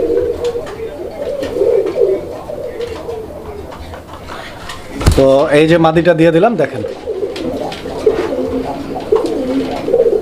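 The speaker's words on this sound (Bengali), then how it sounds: "এটা শালিকের মতো কুকু কুকু কুকু করে ডাকে" A Basiraj pigeon coos once in a clear, close, rising-falling call of about two seconds, while someone talks before and after and other pigeons murmur softly in the background.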